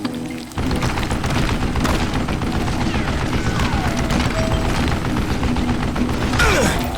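Gunfire in the Western shooter game Call of Juarez Gunslinger, loud and continuous bursts of shots and booms packed close together with mechanical clatter, near and dense throughout.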